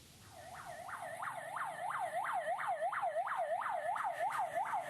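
An ambulance siren wails in a fast, rising and falling yelp, repeating steadily and growing slightly louder as a convoy of ambulances enters a factory yard, heard from a moderate distance with no talking.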